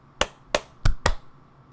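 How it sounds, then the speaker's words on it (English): Four sharp hand claps in quick succession, close and dry, the middle two slightly fuller, made for syncing podcast audio, with no talk. "Okay, clap twice."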